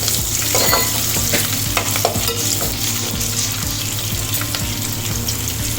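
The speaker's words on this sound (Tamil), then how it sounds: "வெங்காயம் கொஞ்சம் பொரியணும், நல்லா வாசனையாக இருக்குது." Onions frying in oil in a pan for saala meen kuzhambu, a loud, close, continuous sizzle with the rhythmic scrape of a spoon stirring through the pan.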